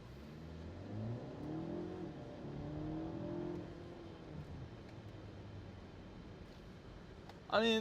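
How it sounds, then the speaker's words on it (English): A 2024 Mercedes GLE 450e plug-in hybrid SUV's engine revs up steadily as it accelerates, its pitch rising and holding, heard from inside the cabin with a brief sharp noise at the end. "I can still hear the engine really trying"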